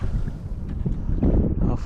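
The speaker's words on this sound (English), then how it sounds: "I think that wind is ripping now." Strong wind roars and buffets against the microphone on a small boat out on the water, a continuous loud low rumble with gusts swelling toward the end.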